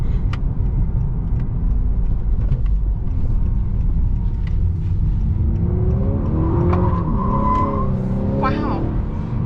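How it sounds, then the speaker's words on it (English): A 2021 Honda Accord 2.0T Sport with a 2-liter turbo engine drives on, its engine rumble steady and loud, rising into revving and tire squeal in the latter half as a voice talks over it. "the Accord Sport 2 liter is very good at doing its tires, as we will demonstrate."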